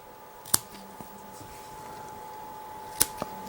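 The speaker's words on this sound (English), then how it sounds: "Where am I going to cut it? I'm going to get some scissors." Scissors trimming cotton wick flush with the deck of a Wotofo Sapor RTA vape atomizer, two sharp close snips about two and a half seconds apart over a quiet background hum.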